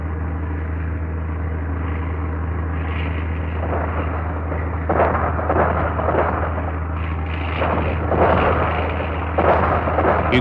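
Japanese anti-aircraft guns fire at night, bursts of dull booming thuds breaking out irregularly over the constant low drone of a PBY Catalina flying boat's engines.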